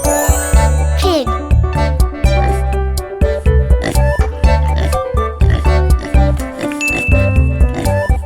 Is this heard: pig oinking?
yes